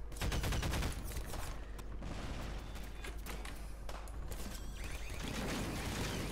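Rapid turret gunfire from a video game level mod, a dense clatter of shots that runs steadily through the whole stretch with heavy low thumps, loud and close, with no voices over it.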